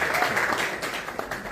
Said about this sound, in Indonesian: Kasih tepuk tangan dia